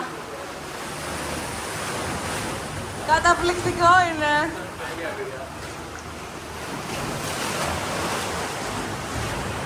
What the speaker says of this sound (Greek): Πολύ μικρό πέρασμα και μπαίνουν τα κύματα μέσα.